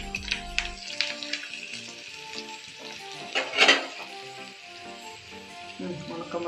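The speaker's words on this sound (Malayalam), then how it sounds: "അതിലേക്ക് നമുക്ക് 2 ഉണക്കമുളക് ഇട്ട് കൊടുക്കാം കേട്ടോ" Two dried red chillies sizzle and crackle in hot oil with mustard seeds, a steady frying hiss with a brief louder burst partway through and light clinks of a pan.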